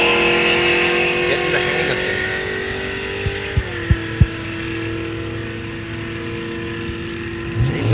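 Muscle cars, a 1972 Chevy Nova and a 2005 GTO, drag race at Rock Falls Raceway with a sustained engine drone and whine that shifts pitch midway, a few sharp pops, and an announcer talking over it.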